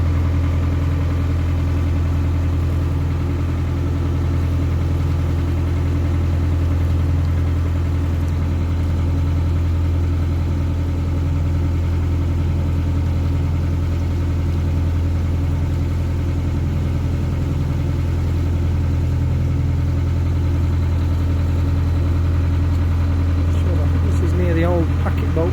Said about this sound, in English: It's smoking quite badly, that engine.